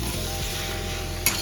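Spices frying for a shingi fish curry as they are stirred in a hot pan, a continuous close sizzle with scraping stir strokes and a brief clink near the end.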